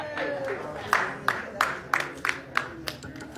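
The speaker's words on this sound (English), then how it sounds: "Give her a round of applause." Half a dozen sharp hand claps in a loose, steady rhythm from a small audience at a community leaders' awards event in Times Square, New York, with a murmur of voices behind them.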